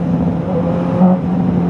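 A 2023 Honda CB650R four-cylinder motorcycle under throttle, holding a loud, steady, close engine drone with a slight rise in pitch partway through.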